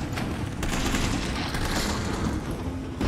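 Heavy gunfire from Resident Evil 3 Remake gameplay pounds in a dense, continuous barrage with booming low thuds, loud and unbroken across the whole stretch.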